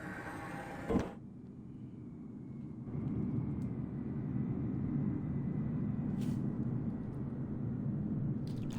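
A C-17 transport aircraft flies past as a low, steady engine roar that swells after a sharp knock and then holds at a moderate distance, with no speech.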